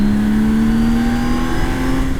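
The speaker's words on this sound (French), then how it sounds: "on refait un petit coup d'accel" A BMW K1600B bagger motorcycle engine revs hard under acceleration, giving a loud, continuous, close engine drone whose pitch climbs steadily through the clip.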